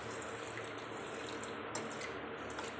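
Water poured into a pan holding fennel seeds and sugar for making chai, a steady, continuous splashing pour close by with no voices.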